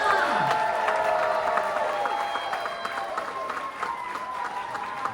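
An audience applauds the Walt Disney Theatre cast aboard the Disney Wonder cruise ship, a dense crowd clapping with scattered cheers that stays strong and eases slightly over several seconds.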